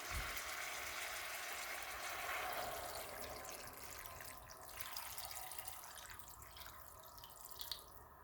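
Broth being poured into a pot of broccoli and potato soup, a steady liquid splashing and trickling that runs evenly through the whole stretch at moderate level, with no talking.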